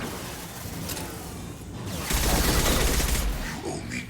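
Sustained gunfire from a Mass Effect 2 firefight, a dense burst of rapid shots swelling midway through and then easing off, loud and close.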